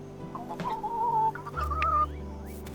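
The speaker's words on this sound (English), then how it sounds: "So now the chickens don't have to share" Chickens on a farm in the video game Dinkum cluck and warble continuously, loud and close, with a steady low hum of game ambience underneath.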